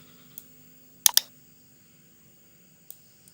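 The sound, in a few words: pressing enter on a computer keyboard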